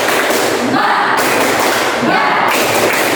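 A classroom group claps in unison in a loud, steady rhythm, the sharp claps blending into a dense, continuous patter.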